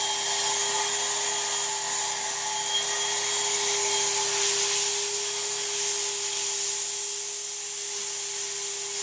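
Hot air plastic welder blowing a steady, continuous stream of air as a welding rod is fed through the top hole, a constant close hiss with a faint tone and no talking.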